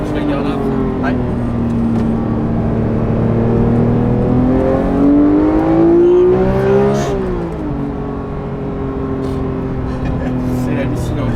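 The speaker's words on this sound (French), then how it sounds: "Tu l'entends vibrer derrière le moteur, c'est un truc de fou" A Porsche GT3 Touring's racing engine runs loud and steady, its pitch climbing and dipping as the revs rise and fall. Voices talk over it throughout.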